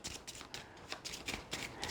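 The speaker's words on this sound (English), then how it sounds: "I already have our deck set up with our basic cards, which I'll give it a quick shuffle" A deck of basic cards from The Lost Ruins of Arnak board game gets a quick riffle shuffle close up, a rapid crisp flutter with repeated soft slaps across two seconds, quiet and alone.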